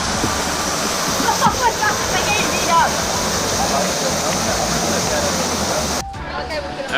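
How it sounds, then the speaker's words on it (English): Loud, constant roar of a hot waterfall in Iceland rushing nearby, with faint voices mixed into the background. "Is that a hot waterfall?"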